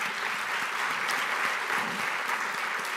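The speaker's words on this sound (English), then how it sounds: "let's give them all a round of applause" An audience at an energy summit gives a round of applause for the event staff, a sustained, even wash of many hands clapping in a large room, unbroken from start to end.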